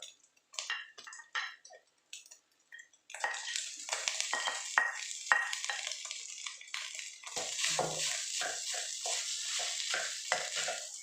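Steamed rice stir-fried with egg in a pan for Thai fried rice: scattered spatula clicks and scrapes at first, then a continuous loud sizzle with repeated stirring and clanking against the pan.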